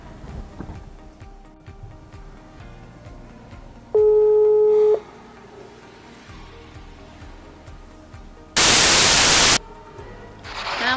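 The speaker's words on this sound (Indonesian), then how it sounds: "sekarang yang mau Ustazah telepon adalah Kak Rasya" On a video call connecting, a steady electronic tone sounds for about a second, later followed by a loud burst of static and faint ticking in between.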